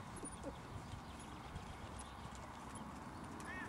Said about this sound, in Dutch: Ah, dat paard is nog niet ontspannen.